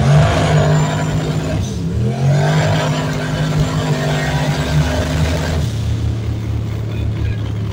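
A 351W Fox Body car making 630 rwhp on a stock bottom end launches from a dig, its engine revving hard and climbing in pitch, dropping briefly, then pulling loud and close before easing off.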